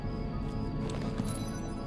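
A horse in the video game Starshine Legacy gives off soft clip-clop hoof sounds and faint whinny-like noises against a steady bed of game music and ambience.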